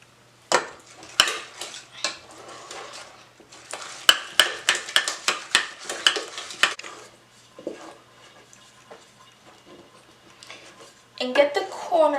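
A spoon scraping and clinking around a bowl while stirring pecan pie filling, a long run of sharp, close scrapes and taps that trails off, then a rougher rustling stir at the end.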